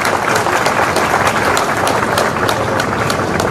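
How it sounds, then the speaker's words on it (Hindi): Loud, dense applause from an audience at a public event in Madhya Pradesh, a steady crackle of many hands clapping at once that lasts throughout, with no speech over it. "जब बधाई देना तो दो चार ताली क्यों बजना चाहिए"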